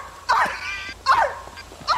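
A GTA RP player imitates a dog with his voice, letting out three sharp, yelping barks spaced roughly evenly apart, each loud and close to the mic with brief gaps between them.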